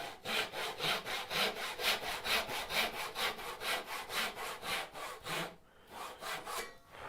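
A hand saw cuts wood for a homemade turning saw, with about twenty even, rhythmic back-and-forth strokes close by, a brief pause near the end and then a few more strokes.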